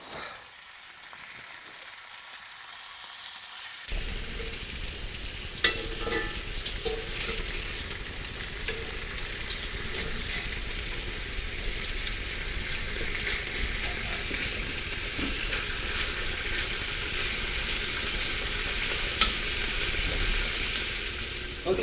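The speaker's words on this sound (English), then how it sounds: "Sizzle." Chicken sizzles steadily in a hot frying pan, a loud continuous crackle starting abruptly and holding, with occasional pops and faint utensil sounds.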